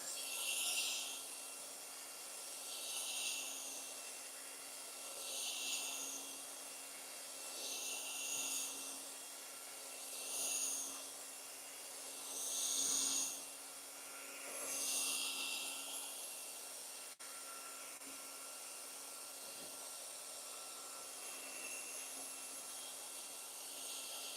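An electric drill whines steadily at a distance, its pitch swelling in regular bursts about every two to three seconds, then settling into a constant hum.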